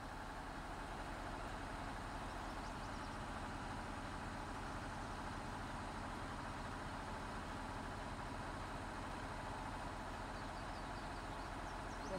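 A tractor engine in Farming Simulator 19 runs at a constant low idle, a continuous steady drone with a deep rumble that holds unchanged throughout, no voices.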